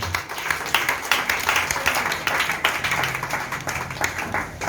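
A church congregation claps in praise during a sermon, with a loose, uneven burst of hand claps and crisp individual slaps standing out over a steady, moderately loud patter.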